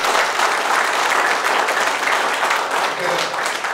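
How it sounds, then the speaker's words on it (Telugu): Loud, sustained audience applause fills the room at a business opportunity presentation for ADMS e-bikes, a dense steady wash of many hands clapping together with no break. "వీలైతే ఒకసారి గట్టే క్లాప్స్ పెట్టండి."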